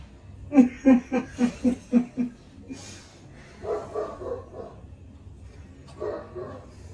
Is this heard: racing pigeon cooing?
no